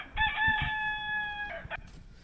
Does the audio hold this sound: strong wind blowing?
no